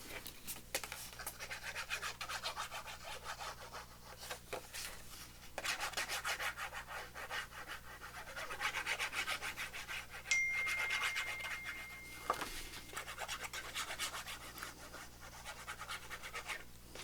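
A paper tag is rubbed down by hand onto a junk journal page, giving a long run of soft, close scratchy rubbing strokes in uneven bursts, faint and with no talk.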